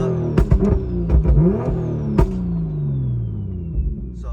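A B58 car engine revs up and drops repeatedly, with sharp throttle blips and popping bursts between rising whines, loud and close.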